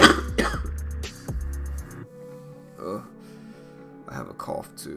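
A sharp cough or throat-clearing bursts out at the start, followed by a voice talking and further short rough throat sounds.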